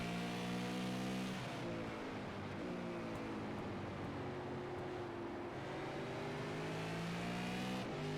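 Super late model race cars powering out of the corners at Martinsville, loud engine notes rising and falling as the cars accelerate and shift, several cars overlapping in a sustained roar.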